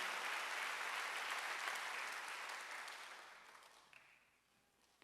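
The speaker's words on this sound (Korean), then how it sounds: "박수 한번 해주세요." A church congregation at a Wednesday worship service applauds in a steady burst of clapping that gradually thins and fades out, leaving near silence at the end.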